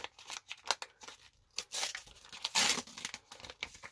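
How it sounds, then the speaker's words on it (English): Mail packaging torn open by hand, a run of sharp ripping and crinkling bursts with short pauses between them, close and fairly loud, with no voices. "So I'm opening up his package now."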